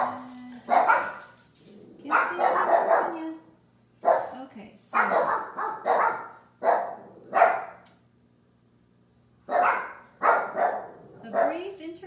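Small puppies bark and yip in bursts of sharp, excited calls, close by and fairly loud, with short pauses between the volleys.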